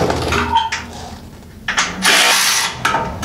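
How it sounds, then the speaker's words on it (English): An electric socket driver spins off the factory bumper nuts on a 4th-gen Toyota 4Runner, giving short whirring bursts separated by pauses, close and fairly loud. "electric socket driver to get the rest of the way out."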